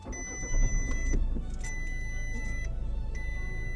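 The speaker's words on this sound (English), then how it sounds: "then we'll start the engine" A diesel Volkswagen-group car engine turns over and catches, settling into a steady, close idle with a faint ticking chime running above the low engine rumble, no talking.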